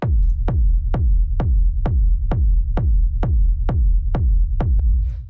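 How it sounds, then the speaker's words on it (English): A rumbling techno kick drum at 131 BPM thumps alone in an even, steady four-on-the-floor pulse, about a dozen deep, booming hits with short decaying tails. "It's a pretty standard sort of rumble kick"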